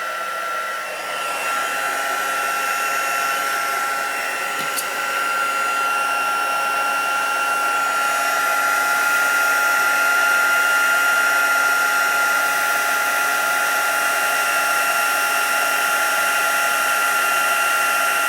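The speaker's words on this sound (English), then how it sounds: "now I'm going to use my heat tool, and it's going to make a little bit of a noise" A heat tool blows hot air for embossing, giving a loud, steady whirring hiss that runs continuously close by with no gaps.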